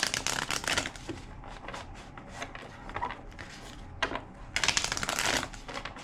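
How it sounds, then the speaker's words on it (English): Tarot cards are shuffled up close in several quick riffling bursts, with short pauses between the rapid flutters. "Two more shuffles."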